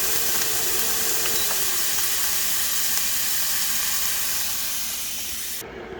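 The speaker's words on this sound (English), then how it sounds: "So we saute this" Scallops and shrimp sauté in a hot pan with a steady, loud broadband sizzle and hiss that runs unbroken, easing slightly before cutting off abruptly near the end; no one speaks.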